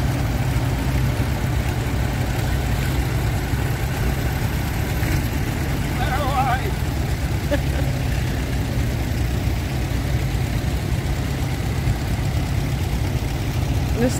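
A tractor engine idles steadily at a steam rally, a constant low rumbling hum close by with faint background voices.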